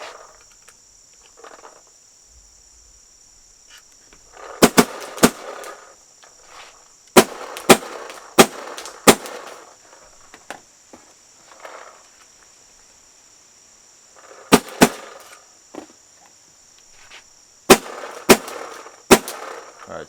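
A paintball marker fires sharp, loud pops in quick bursts of two to four shots, with pauses between groups, over a steady high insect buzz in the background.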